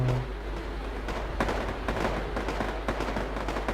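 Missile and anti-aircraft fire from Chaparral units in the real-time strategy game Wargame, a dense rattle of distant pops and cracks over a steady low rumble, with brief sharper reports scattered through.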